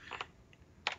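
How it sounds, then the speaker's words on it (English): A few soft keystrokes on a computer keyboard while typing an AT command for a 5G outdoor gateway, two quick pairs of close clicks with a faint tap between, no talk. "I could type in AT"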